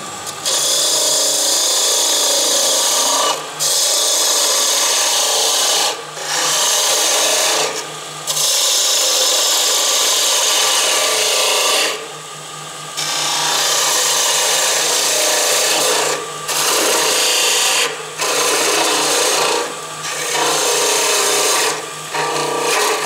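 A woodturning gouge cuts holly wood spinning on a lathe, a loud rough rasping that runs in long bursts with brief pauses between passes.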